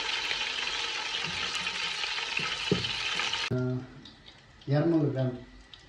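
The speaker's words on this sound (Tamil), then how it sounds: "இந்த பட்டை, லவங்கம், ஏலக்காய் இதெல்லாம் போட்டு கொஞ்சம் அப்படியே வெடிக்க விடுவோம்" Cinnamon, cloves and cardamom crackle in hot ghee, giving a dense, close sizzle for the first few seconds before it drops away and a voice speaks over the fainter frying.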